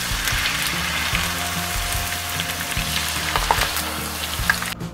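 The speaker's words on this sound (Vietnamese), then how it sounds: "Và mình sẽ tiếp tục chiên phần chuối còn lại cho đến hết." Banana pieces fry in a pan of hot oil, a steady close sizzle with crackling pops throughout and no talking.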